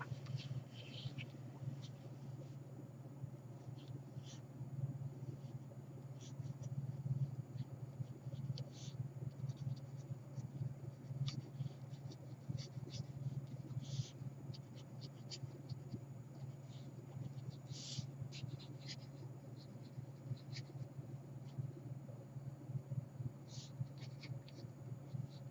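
Pen or pencil writing by hand on paper while drawing fairies among flowers, a steady quiet scratching with small strokes and pauses that carries on softly throughout.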